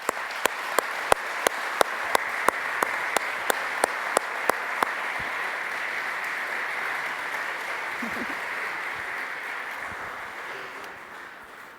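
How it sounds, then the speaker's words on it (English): An audience at the official KTM RC 16 MotoGP team presentation for 2017 keeps up a steady wash of applause, with sharp, regular clicking pulses over it for the first few seconds, then fades gradually. "Please give a big applause."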